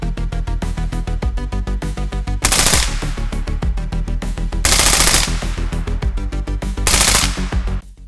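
Heckler & Koch G36 rifle in 5.56x45 firing in STALKER 2, loud close bursts of rapid automatic shots with short pauses between strings, no talk.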